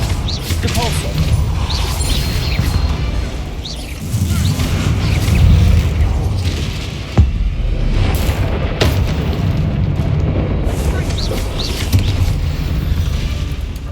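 Depulso spell impacts in the Hogwarts Legacy video game, deep rumbling booms and one sharp crack amid continuous loud game sound, with someone talking over it.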